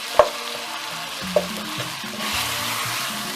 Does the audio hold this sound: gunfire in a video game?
no